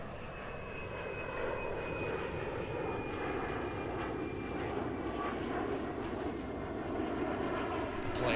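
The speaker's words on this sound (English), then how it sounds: "The plane is so loud." An airplane engine drones loudly and steadily overhead in Farming Simulator 19, a constant roaring hum that builds slightly as it passes, with no one speaking.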